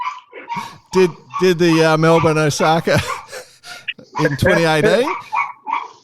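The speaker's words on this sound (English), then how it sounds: "It sounds like the dogs are a little bit upset." A couple of dogs bark and yelp from a neighbouring yard in short, upset bursts, partly masked by close conversational speech throughout.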